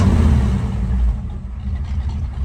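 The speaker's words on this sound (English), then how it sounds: "Got a belt squealing." A 1971 Chevrolet K10 truck engine runs close by with a loud, steady low rumble that eases slightly about halfway through; the squealing belt is not clearly picked out.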